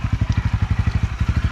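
A motorcycle engine putters in a steady, rapid low thump close by, its rhythmic pulses even and unbroken across a brief moment with no voices.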